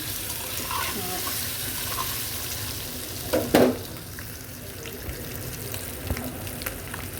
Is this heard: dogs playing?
no